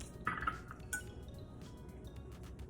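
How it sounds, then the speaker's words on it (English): A utensil stirs gluten-free batter with oil in a bowl, giving faint, irregular clinks and taps against the bowl's side in a quiet kitchen. "And now we mix it."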